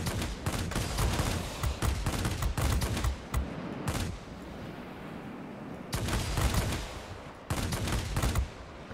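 Aircraft machine guns firing in the World of Warplanes game, aboard a Ki-162-III, long loud rattling bursts broken by short pauses, close and dominant over the engine drone.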